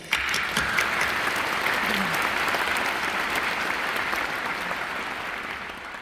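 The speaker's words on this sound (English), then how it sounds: "Let's give them a big round of applause." A conference audience at the CHI 2025 opening gives a big round of applause, broad and sustained clapping from a large crowd that slowly fades toward the end.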